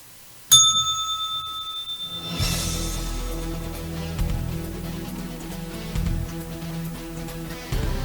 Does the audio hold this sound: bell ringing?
yes